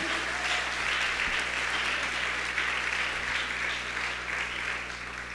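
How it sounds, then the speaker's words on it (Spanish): A church congregation claps steadily as an offering of applause during a sermon, a dense continuous roar of hands lasting several seconds with a low hum underneath. "Denle una ofrenda de palmas al Rey."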